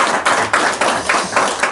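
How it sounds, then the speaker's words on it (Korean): An audience at a monthly meeting of a Bucheon community group claps together in a short, steady burst of rhythmic applause, close and fairly loud. "박수 한번 쳐드릴까요?"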